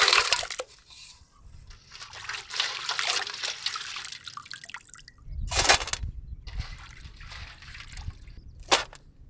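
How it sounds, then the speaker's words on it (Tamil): Crabs are washed by hand in turmeric water, making splashing and sloshing water sounds with trickles and drips, close up and moderately loud, with a few sharper splashes later. "மஞ்சள் ஊற வச்சு நண்டை கழுவி எடுத்துக்கணுமுக்கா"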